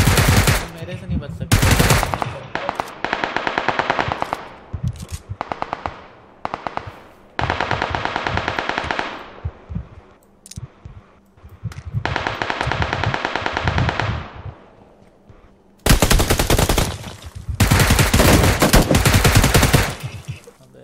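Gunfire in the PUBG Lite battle-royale video game: loud, rapid bursts of automatic fire break off and resume several times, with short gaps between volleys.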